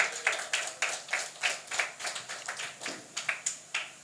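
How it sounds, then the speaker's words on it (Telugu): A church congregation claps hands in a steady, even rhythm, about four claps per second, sounding moderately faint from a distance with no voices over it. "మరొకసారి చప్పట్లు కొట్టి దేవుని నామాన్ని మేము పలుకుదాం"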